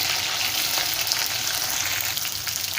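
Finely chopped tomato sautéing in a hot pan with green chillies and curry leaves for a Maharashtrian cabbage curry, giving a steady, close, broadband sizzle and crackle that carries on without a break and without talk.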